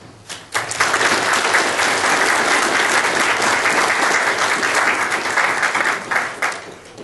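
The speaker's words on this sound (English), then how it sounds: "I think they deserve a round of applause." A conference audience at an investor-state settlement event breaks into loud, sustained clapping. It swells quickly after a brief quiet start and holds strong before tapering slightly at the end, with no talking over it.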